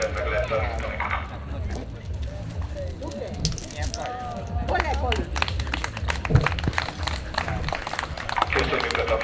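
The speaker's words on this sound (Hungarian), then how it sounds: "Köszönjük a tapsot!" An audience claps after a police border collie demonstration at an outdoor event, with dense applause that grows fuller and louder about halfway through and keeps going steadily to the end.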